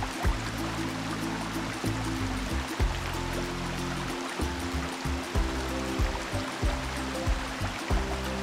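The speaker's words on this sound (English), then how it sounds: "Successfully, within no time, the freshwater lake was filled again in great force." Water rushes back into a freshwater lake in a cartoon scene with dinosaurs, a steady full stream-like flow with low rumbling surges, loud and continuous throughout.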